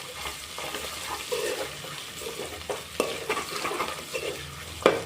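A spoon stirs masala frying in a pan for bottle gourd and moong dal curry, with soft scraping strokes over a low sizzle, close and moderately quiet, and a few sharper clinks against the pan.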